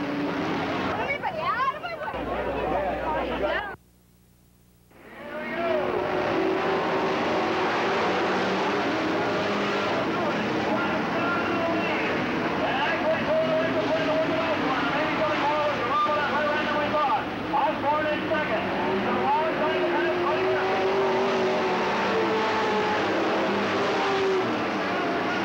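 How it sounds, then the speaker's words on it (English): Outlaw super stock race cars roar around Riverside Speedway in a loud, continuous engine din with a brief dropout, and an announcer calls the race over the noise. "Into the wall now is Richard Burkume, car number four"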